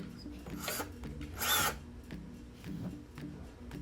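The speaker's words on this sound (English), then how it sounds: "then I have my drill, making sure I get a really good tight fit." Power drill driving screws into a wooden desk shelf, a few short whirring bursts with one louder burst in the middle, close by.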